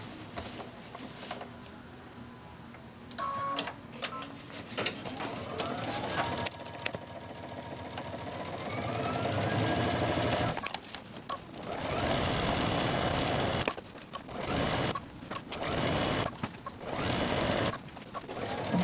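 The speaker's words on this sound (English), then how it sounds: "then I will be sewing my other side" A sewing machine runs steadily while stitching fabric for a quilted gift project, close and continuous with brief stops and restarts, speeding up toward the end.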